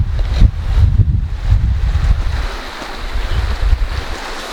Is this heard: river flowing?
yes